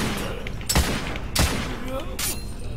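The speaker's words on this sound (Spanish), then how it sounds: "¿Se ha tomado 4 tiros de una carabina?" Carbine gunshots in the video game The Order: 1886, firing as three sharp separate blasts spaced under a second apart over a steady game ambience with background noise.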